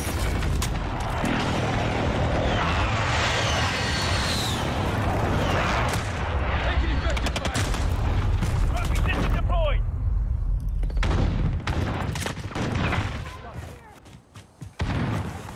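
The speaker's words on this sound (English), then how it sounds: "Be advised, friendly precision airstrike" Heavy explosions and booming barrages from a precision airstrike in Call of Duty Modern Warfare, a Domination match on the Crash map. The blasts roll loud and continuous with gunfire mixed in, and radio voice callouts sound over the din.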